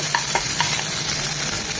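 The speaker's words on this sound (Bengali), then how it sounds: "সব কিছু মিলিয়ে তাকে আরও এক মিনিট ভেজে নেব" Mixed vegetables for noodle soup stir-fry in a pan, making a dense close sizzle with a few quick scraping stirs near the start.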